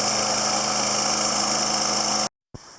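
Snapper Ninja lawn mower with an overhead valve engine running at a loud steady drone, then abruptly cutting to silence before a brief thump and a quieter resumption.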